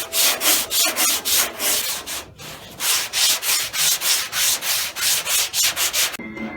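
Rhythmic back-and-forth block sanding of polyester filler across a steel car roof panel, steady scratchy strokes about twice a second, close and alone.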